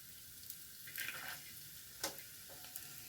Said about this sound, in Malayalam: ഇനി ആദ്യം നമുക്ക് ഒന്ന് നാളികേരക്കൊത്ത് വറുത്തെടുക്കാം കേട്ടോ